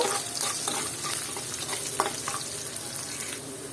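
Onions with salt frying and being stirred in a pan, a continuous close sizzle with scraping stirring strokes and occasional sharper clinks, no talking.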